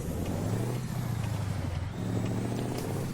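A Mack truck in American Truck Simulator brakes with a steady low engine drone and road rumble, loud and continuous without a distinct air-brake hiss.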